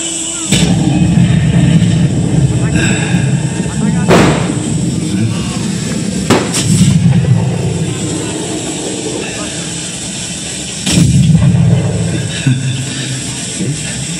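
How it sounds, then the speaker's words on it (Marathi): Three heavy cannon blasts boom at irregular intervals over a low rumble, with a voice speaking throughout. "तोफा धडाडल्या"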